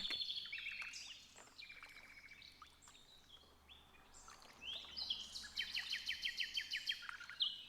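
Many birds chirp and trill around a kayak, a dense chorus of high, bright calls that swells toward the end, with no talking.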